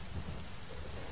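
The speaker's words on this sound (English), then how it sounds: "I love the sound effects in this game for the rain and everything." Steady rain hisses without a break in the video game Kena: Bridge of Spirits. It is a continuous soft wash of falling water with a low rumble underneath and no talking.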